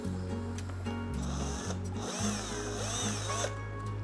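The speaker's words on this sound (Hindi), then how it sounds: "ये जो है ड्रिलिंग मोड में है।" An izom battery-powered screw drill runs in drilling mode, its motor whirring close and loud, with pitch shifts as it speeds up and slows, briefly stopping and restarting; no one talks over it.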